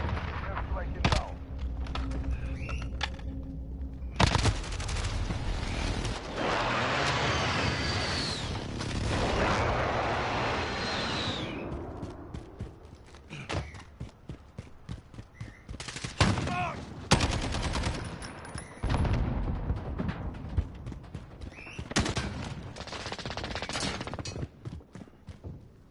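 An airstrike and gunfire in the Modern Warfare video game: bursts of rapid shots and heavy explosive booms come in loud waves, broken by short lulls and scattered single cracks.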